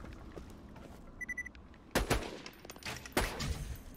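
Gunfire in the video game Borderlands 2 during the Tiny Tina's Assault on Dragon Keep content: a few sharp, loud shots around the two-second mark and again near the end, with a short electronic tone in between.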